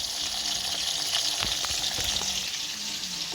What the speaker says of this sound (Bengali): প্রথমে সবজিগুলো ভেজে নেবো